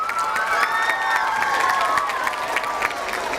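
Crowd at a school awards event in Harvard Park breaks into steady applause mixed with cheering and children's shouts, loud and continuous throughout with no break.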